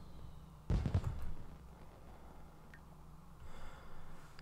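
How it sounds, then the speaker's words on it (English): Fireworks burst in The Sims 4 at a Hijinks Festival: a short cluster of crackling pops near the start, followed by faint, scattered distant crackles against a quiet game background. "Wait! We have fireworks!"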